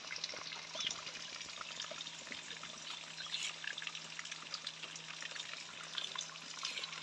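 Water leaking from a wooden barrel for palinca pours and splashes continuously, a constant hiss with no talking, close by.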